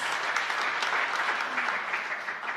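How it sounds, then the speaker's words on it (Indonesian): A church congregation claps during a sermon, a broad continuous wash of many people's hands, steady and moderately loud with no voices standing out. "Tepuk tangan yang meriah bagi Tuhan Yesus"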